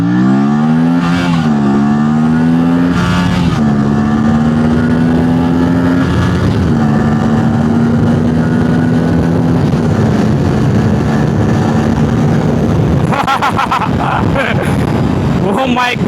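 An Aprilia RS 457 motorcycle in sports mode accelerates hard, and its engine note rises steadily through a few gear changes. It is loud and close, with heavy wind roar, and a short burst of wind or voice noise comes near the end.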